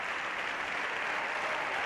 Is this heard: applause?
yes